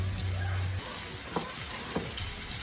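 Steak sizzles steadily in hot oil and butter in a pan, a dense crackling hiss with a couple of faint utensil taps.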